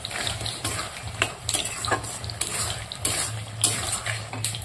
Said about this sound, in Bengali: কষিয়ে নিচ্ছি, তার সঙ্গে আলুটাও দিয়ে দিয়েছি